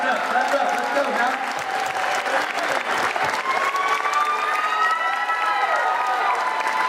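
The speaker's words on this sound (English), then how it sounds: "clap it up, clap it up, clap it up" A crowd at a state championship breaks into sustained applause, loud and dense, with cheering and voices mixed into the clapping throughout.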